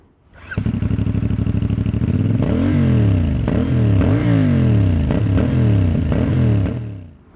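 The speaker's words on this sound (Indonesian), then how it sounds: "mesin ini punya firing order 270 derajat yang membuat suaranya enak banget. Nih, dengerin suaranya." A CFMoto 450 CL-C motorcycle with a 270-degree firing order and stock exhaust idles with a lumpy, uneven beat, then revs several times in repeated rising-and-falling blips, close and loud, with no talk.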